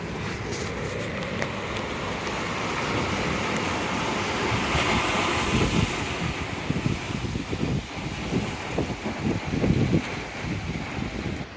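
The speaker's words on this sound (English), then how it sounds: "the sound of waves crashing against rocks" Sea waves crashing against rocks below a hotel window in Benidorm, a continuous loud surf roar with rougher surges and bursts toward the end, no voices.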